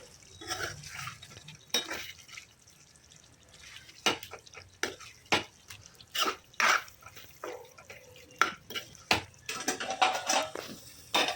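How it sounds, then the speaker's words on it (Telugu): Hot water is poured into spicy chicken curry cooking in a pot, heard as close splashing, dripping and clinks of the pan in irregular bursts, with no talk. "ఇక్కడ నేను వేడి వాటర్ పోసుకుంటున్నాను"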